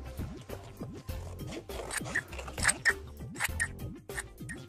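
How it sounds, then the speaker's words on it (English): Scissors snip steadily around a paper circle traced from the outside of a paper cup for a children's craft sun, a quick run of close, crisp cuts with no talk. "Let's cut it out very carefully."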